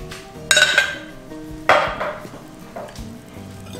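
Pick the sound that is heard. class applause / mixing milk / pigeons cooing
mixing milk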